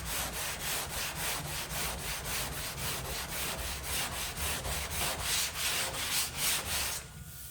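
Body filler on a car panel coated with guide coat is sanded by hand in steady, rhythmic back-and-forth strokes, about two per second, close and even, ending abruptly near the end with no talking.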